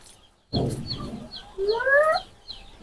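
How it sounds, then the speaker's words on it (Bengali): Chickens on a poultry farm cluck and call, with a loud, close, drawn-out rising squawk in the middle and a few shorter clucks around it. "এই যে এখানে আপু মুরগি রাখে"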